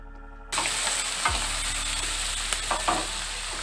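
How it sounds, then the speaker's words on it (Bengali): Sauces frying in a hot pan for restaurant-style fried rice. A loud sizzle bursts in suddenly and carries on steadily, broken by a few scraping stirs and clinks of the utensil against the pan, with no speech. "হালকা করে ভেজে নিচ্ছি"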